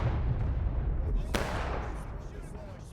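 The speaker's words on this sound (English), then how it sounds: "You're going to get raked by artillery." Artillery fire in a large-scale multiplayer battle game, heard as a steady, rumbling barrage with one sharp, close crack partway through, all under background battle noise.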